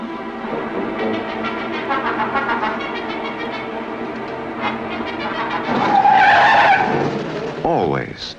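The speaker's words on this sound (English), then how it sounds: "She left the keys in the car and the engine running." Car with its engine running skids and squeals its tires, a rising screech after a stretch of voices talking, loud and close.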